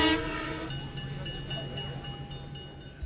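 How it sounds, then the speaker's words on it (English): A Downeaster passenger train rumbles steadily along the tracks with a bright, sustained whistle tone overhead, loud at first and then easing slightly as it continues. "a Downeaster passenger train on these tracks in 2012"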